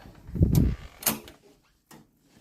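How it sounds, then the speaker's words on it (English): Hotel room door at the Holiday Inn Express London ExCeL opening: a close mechanical clunk and latch click, a brief rattle, then a soft thud as it swings, with quiet pauses between. "Open the door."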